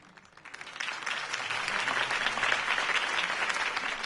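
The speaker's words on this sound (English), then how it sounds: "could have heard that applause" A large crowd breaks into sustained applause after a city mayoral campaign speech, swelling quickly from quiet into a dense, steady wash of clapping.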